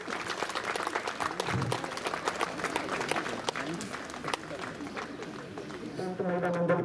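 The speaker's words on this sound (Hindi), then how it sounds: "जोरदार तालियां प्लीज।" Dense clapping from a gathered crowd at a village panchayat event with a legislator in Chamba, India carries on continuously under a voice speaking nearby.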